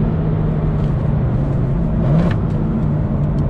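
BMW M2 with an N55 engine on a Bootmod3 stage 2 tune accelerating on a freeway, a loud steady engine drone with road rumble rising slightly in pitch, heard from inside the car.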